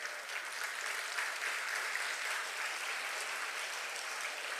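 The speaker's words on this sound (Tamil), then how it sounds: "ஐயா அவர்களுக்கு ஒரு பலத்த கரகோஷம் கொடுத்து" Faint, even applause from a crowd at a Tamil speech event, a soft continuous wash of distant clapping with no clear individual claps standing out.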